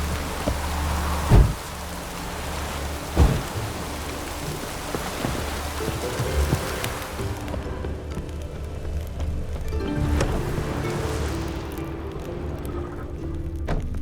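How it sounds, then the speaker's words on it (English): Steady rain pours down in The Witcher 3, with a couple of low thumps early on and a dull continuous hiss throughout. "No use doing any work in this rain."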